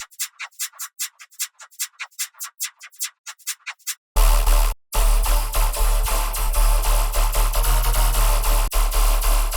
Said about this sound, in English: we have this tilted, but also spray. You can make it kind of into a shaker.